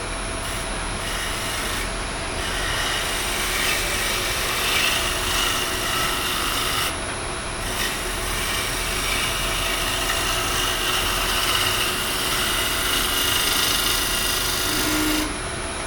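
A steady, loud buzzing vibration of a trimming tool chattering against clay on a spinning pottery wheel, droning on without pause.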